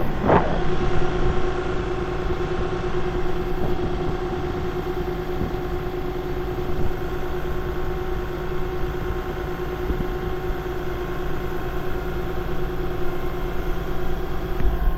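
An open-cab tractor's engine runs at a steady idle in a snowy setting, a continuous mid-level hum with a faint thump near the start and no voices.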